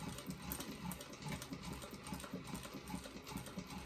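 A sewing machine runs steadily, its needle chattering in a fast, even rhythm while chain stitching fabric pieces for a doctor bag, fairly quiet and close with no voices.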